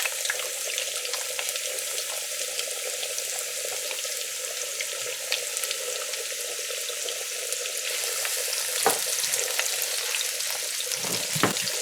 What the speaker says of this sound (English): So we're gonna fry up our onions a little bit.